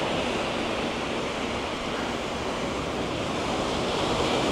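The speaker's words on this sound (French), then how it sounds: "Belle plage. Pas polluée." Ocean surf breaking on a beach at Koh Samet, Thailand, a steady full wash of waves with a broad, constant roar, close and loud, with no voices.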